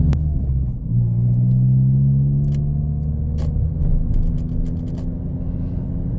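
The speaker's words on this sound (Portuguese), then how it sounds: "Só escutando o barulho do escapamento" A Chevrolet Celta driven on the road, its exhaust and engine making a steady low rumble that rises in pitch as the car accelerates, with faint clicks and knocks over the top and no talking.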